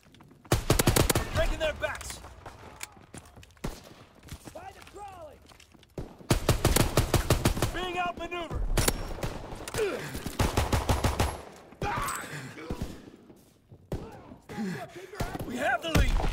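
Gewehr 43 rifle shots in Call of Duty WW2, sharp and loud, coming in several clustered bursts with quieter gaps and someone talking between and over them.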